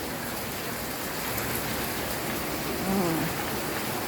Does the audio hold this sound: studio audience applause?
no